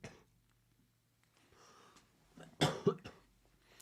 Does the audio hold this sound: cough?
yes